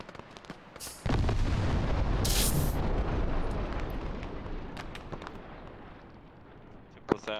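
A large explosion in ARMA 3 booms in at about one second, loud and sustained, with a rolling rumble that slowly fades over several seconds, then a sharp report near the end.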